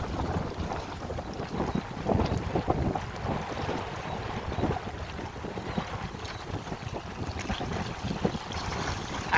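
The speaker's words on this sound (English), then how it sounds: "I know it's windy, but I'm really surprised by how rough the water is on this tiny ass lake" Wind-whipped waves slapping on a small Kansas lake, Inman Lake, with steady gusty wind rumble and broadband splashing throughout, loud and close to the microphone, no voices.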